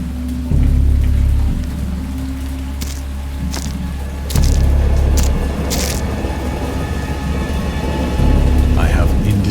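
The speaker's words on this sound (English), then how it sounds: "Distinct recollections of a great storm sometime after I reached the boat." A thunderstorm with steady heavy rain hisses throughout, with low rumbles of thunder rolling in at several points and a few sharper crackling bursts, all loud and close with no speech.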